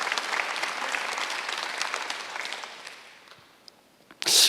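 Church congregation applauding during a Sunday worship service, a steady wash of clapping that fades out over a few seconds before a brief loud burst near the end.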